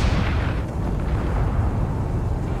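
A ship's cannon fires in the space-combat video game Space Engineers, producing one loud, booming blast that rolls into a sustained rumble.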